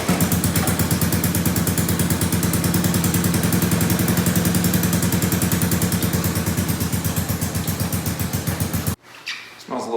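A vintage three-wheeler's engine runs loud and close after sitting unused for weeks, a fast, steady, rattling putter that cuts off abruptly near the end into near silence.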